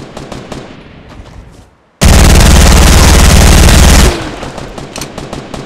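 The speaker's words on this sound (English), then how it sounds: "Your golden gun will kill him" Fortnite gunfire from a golden gun, a loud, rapid burst of automatic shots lasting about two seconds, set against softer in-game background sounds.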